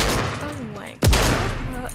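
Gunfire in the video game Fortnite: a sudden loud shot or short burst cuts in midway, with players talking over the game sounds before and after it.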